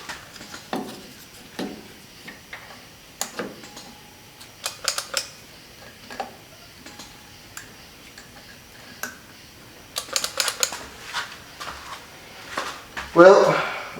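Repeated starter clicks and brief cranking bursts on a homemade motorcycle trike built from a 1974 Datsun, coming in irregular bursts with pauses between, close by and fairly quiet, with a louder burst near the end.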